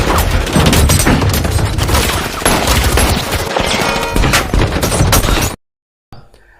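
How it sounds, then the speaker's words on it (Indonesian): Dense, loud bursts of rapid gunfire hitting a car with bulletproof glass in a James Bond film, with crashing impacts, sustained for several seconds before cutting abruptly to silence. "Mobil pun terjebak dalam kepungan dan langsung mendapat serangan rentetan tembakan."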